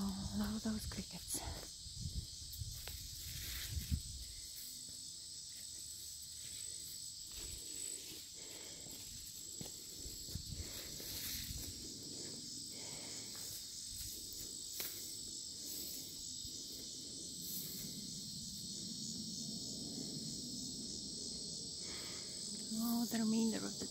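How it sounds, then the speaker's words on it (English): Crickets chirp in a steady high-pitched drone throughout wilderness at Hitchcock near Crescent, Iowa, with faint rustling and occasional low background noise. "love those crickets"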